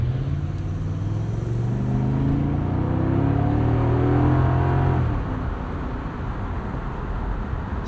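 A 2003 BMW Z8 Alpina roadster's V8 engine drones steadily while driving, with rising harmonic tones as it pulls for about five seconds before easing back to a lower, rougher cruise.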